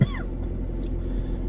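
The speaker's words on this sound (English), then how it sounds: "I still got the cough." A single short, sharp cough from a person getting over a cold lands right at the start, followed by a quiet indoor hum.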